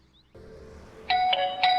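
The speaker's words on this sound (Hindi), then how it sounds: "लो घंटी बज गई" A doorbell rings indoors in a domestic drama scene: two bright chimes, the second a beat after the first, over a low room hum with no talk.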